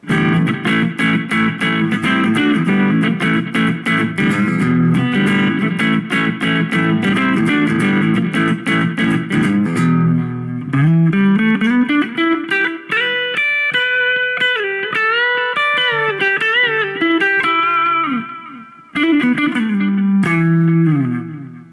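Loud electric guitar plays sustained chords, then shifts to a melodic line with bends, sounding clean with a touch of effects, from a Chinese-made Les Paul-style guitar's pickups.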